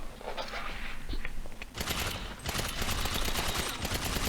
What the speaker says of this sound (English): So I began to shoot at the barrel